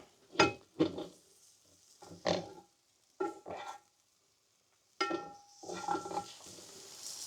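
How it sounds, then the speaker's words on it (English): Flour is stirred into mushrooms in a pan. Short bursts of spoon-on-pan scraping and light sizzle come in irregular strokes, separated by near-silent pauses, with a longer run of stirring toward the end. "Stir that flour in. Coat the mushrooms."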